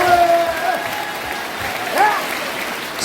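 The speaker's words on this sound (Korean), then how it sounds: "내가 기자님들에게 박수 한번 쳐드리겠습니다." Applause from a room of reporters at a Korean press conference: a steady wash of clapping that stays close and fairly loud for about three seconds, with faint voices beneath it.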